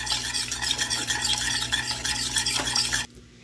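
A whisk beats a mixture in a bowl with quick, rhythmic swishing strokes close to the listener, then stops abruptly, leaving near silence.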